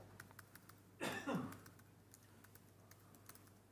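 Card details are typed on a computer keyboard into an online payment form: quick light key clicks close by, with a short louder rustle partway through.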